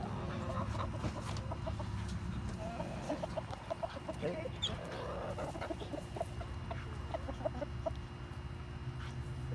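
Backyard chickens feeding on pumpkins cluck softly and repeatedly in a steady busy murmur, several birds close by, with a low continuous background noise and no talk.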